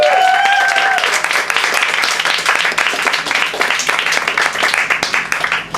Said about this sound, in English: Round of applause to everyone who's seen this mic, ladies and gentlemen!